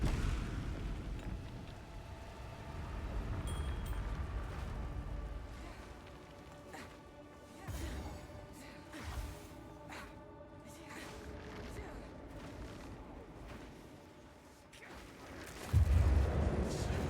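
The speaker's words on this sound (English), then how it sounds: "You can see our Mirage Archer shooting, and shooting Galvanic Shards and applying some shock to the boss" Mirage Archer firing Galvanic Shards at a boss in Path of Exile 2, a dense wash of crackling shots and booming impacts with a heavy thump near the end, under continuous game music.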